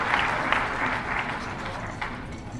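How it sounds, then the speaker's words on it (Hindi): An audience at a workshop by the Panchayati Raj department in Patna claps steadily, a dense sustained applause from a hall crowd with a few sharper bursts. "जोरदार तालियों से सर का अभिनंदन करें,"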